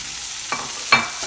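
Marinated paneer fries in a little oil in a pan, a quiet, even sizzle with a couple of brief scraping bursts as the pieces are moved, heard close and with no talking.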